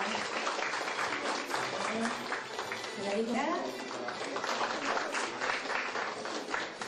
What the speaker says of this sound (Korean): 여러분 축하의 박수 한번 부탁드리겠습니다